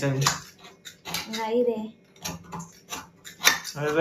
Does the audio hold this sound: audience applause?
no